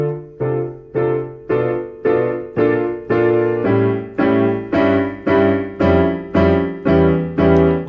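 Piano chords for the intro of a song, struck in a steady descending pattern, about a dozen sustained chords that ring and decay in an even rhythm, played alone and close.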